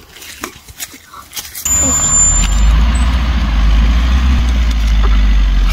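A car engine bursts into life during a first-time driving practice and settles into a loud, steady low rumble that runs on without a break, after a few quiet scattered knocks.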